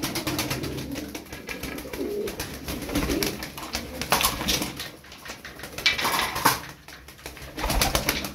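Crested game pigeons coo repeatedly, soft throaty calls rising and falling nearby, with a few faint clatters in the background.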